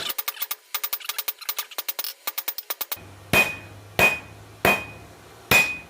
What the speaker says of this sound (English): This is a soft face hammer